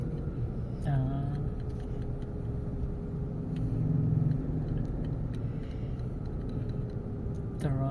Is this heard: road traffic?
yes